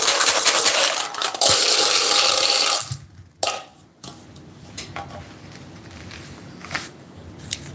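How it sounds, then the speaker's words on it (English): Dice rolled in a tarot-style reading, a loud dense rattling tumble for about three seconds, then sharp isolated clicks and knocks as they settle, close and alone with no talk. "Here goes the dice."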